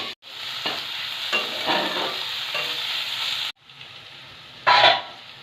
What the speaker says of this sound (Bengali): ভালোভাবে নেড়ে চেড়ে টমেটোগুলো নরম হওয়া পর্যন্ত সামান্য ঢেকে রাখবো